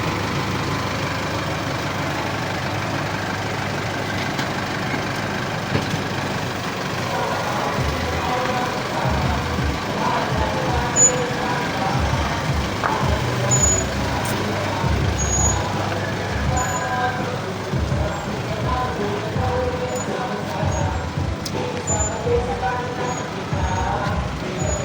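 A vehicle backs up near a bridge, its engine idling and rumbling steadily at close range, with people calling out directions over the running motor.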